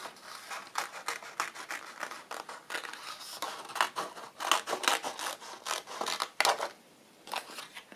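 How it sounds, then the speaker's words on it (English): Scissors cut roughly around a paper piece for a travel journal, with close, quiet rasping snips coming in quick bursts and a short pause near the end, with no voices. "cut around it roughly."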